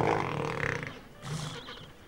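A large Antarctic animal, likely a seal lying about during its month-long moult, lets out a loud, rough, guttural burp followed by a second lower grunt, close by and without talk.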